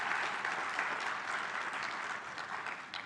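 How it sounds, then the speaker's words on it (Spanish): At a film screening event, an audience applauds, a steady, fairly soft stream of many hands clapping that fades slightly toward the end, with no one talking over it. "I ask for a round of applause, please."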